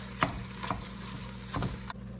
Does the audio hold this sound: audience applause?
no